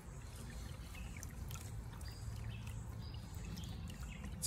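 Sand and water slosh gently in a gold pan being worked in a creek, a faint, continuous watery swishing with soft trickles, close and quiet, with no talking.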